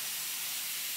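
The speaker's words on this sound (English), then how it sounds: "steam up both sides here." Steam hisses steadily and loudly from a nozzle against an archtop guitar's neck joint during a neck reset, a constant bright rushing spray with no pauses.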